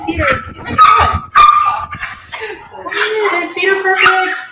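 Peter, a foster dog, whimpers and gives short yipping barks close by, mixed with people talking over him.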